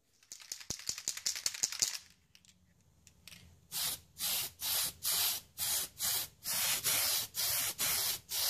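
A rattle-can of MICA red paint is shaken, its mixing ball clattering, then sprayed in about a dozen short, even hissing bursts onto a Tamiya plastic RC car hard body, close and loud.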